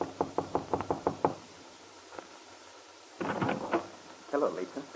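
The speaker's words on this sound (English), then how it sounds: "waiting for an answer to his knock" A run of seven quick, sharp raps on a hotel room door sounds near and distinct, followed by a pause, then more scattered knocks and faint door handling.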